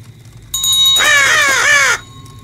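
A raven in the Halloween Chronicles video game gives a loud, close caw, one harsh cry lasting about a second that rises then falls. It comes over a brief background tone and no one talks over it.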